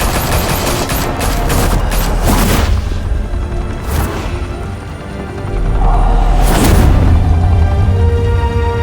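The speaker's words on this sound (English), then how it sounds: "Open fire!" Heavy gunfire and explosive booms in the video game TellTale Batman, set in Gotham: dense, loud bursts of shooting and crashes fill the whole stretch, swelling in a couple of big blasts.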